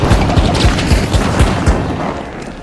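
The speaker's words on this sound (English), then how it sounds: "Throwing a flashbang." In the game The Finals, a flashbang grenade goes off amid a loud, dense run of booming blasts and rapid gunfire-like thumps in a busy arena match, with no speech.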